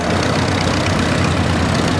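A McCormick-Deering W9 tractor's gas engine idles steadily at a vintage tractor show, a loud, close, continuous low rumble with no talk.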